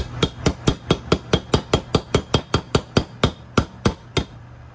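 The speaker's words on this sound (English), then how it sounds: "Take your new bearing, put it into place, and you only want to hit on the outside." Hammer blows driving a new bearing into a riding mower part through a 1 1/8 inch socket, about eighteen sharp metallic strikes in a steady quick rhythm, close and loud, no talk.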